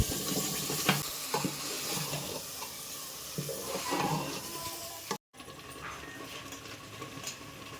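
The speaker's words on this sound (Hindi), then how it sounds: "बिरयानी मसाला भी थोड़ा सा यहाँ पे डाल दिया है मसाले में, और इनको अब अच्छे से भूनते हैं।" Onion and ground spices with biryani masala frying in a pan, a steady sizzle with scraping stirs throughout and one brief dropout partway through.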